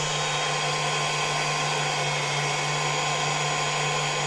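A hair dryer powered by a 12V-to-220V 1500W inverter blows with a steady, close whir and a constant hum beneath it, running without interruption, its power pulsing.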